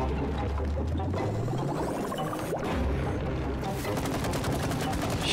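Rapid gunfire bursts in the video game It Takes Two, a dense continuous crackle of shots under a loud game soundscape with players talking over it.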